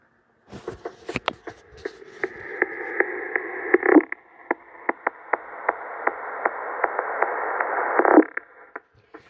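Radio interference from a Xiegu G90 transmitter comes through a Kenwood radio as a steady buzzing hum broken by sharp regular clicks, fairly quiet and with no voices.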